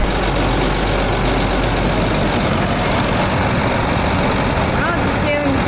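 A Land Rover engine runs at raised RPM, a loud, steady, close drone with a constant low rumble that holds throughout with no pauses.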